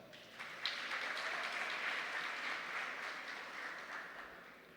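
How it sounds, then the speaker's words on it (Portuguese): Audience clapping at an education seminar on gender diversity, a steady broad wash of applause that carries on evenly for several seconds at moderate distance. "Uma salva de palmas"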